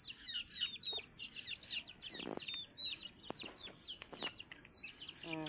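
Chickens cluck and chirp close by in a busy, overlapping flurry of short calls, with a brief rattling burst partway through.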